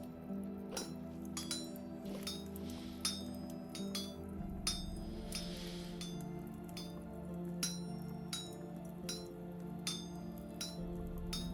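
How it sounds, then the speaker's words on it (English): Metal clinking and clanking from smithing at an anvil in the video game Vintage Story, a steady series of sharp ringing hammer strikes over a low background hum. "All the clinking and the clanking."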